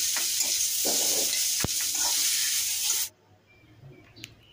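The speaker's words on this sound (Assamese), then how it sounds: "এতিয়া মোৰ ভজা হৈ আছে" Kachori frying in hot oil, a steady bright sizzle that fills the first three seconds, then cuts off abruptly to near silence with a faint clink.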